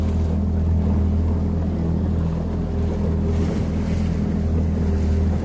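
Choppy sea waves wash around a boat near Narvik, with a constant low engine drone and gusting wind buffeting the microphone, steady and loud throughout.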